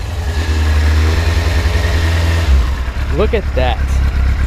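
A carbureted engine, just jump-started with a GOOLOO GP29 pocket jump starter, runs with a loud, steady, low rumble throughout, while a person speaks briefly near the end.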